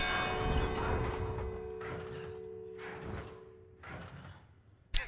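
Bells ring in a video game, several resonant tolls with lingering tones, heard in bursts with pauses between and a sharp knock near the end.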